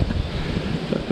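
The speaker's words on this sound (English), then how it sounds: "as the wind gusts up" Strong outdoor wind gusts buffet the microphone in a continuous low, rumbling roar with slight surges, and no voices are heard.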